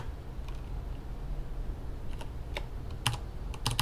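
Someone types on a computer keyboard in short, irregular bursts of quiet clicking keystrokes over a low background hum, growing busier toward the end, with no talking.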